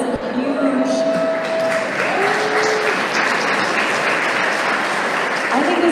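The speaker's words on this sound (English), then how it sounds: "we should applaud that" Audience applause at a panel event, steady dense clapping filling the space for several seconds, with faint voices and a brief tonal sound riding over it.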